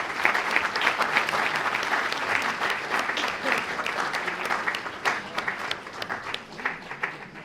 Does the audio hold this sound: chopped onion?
no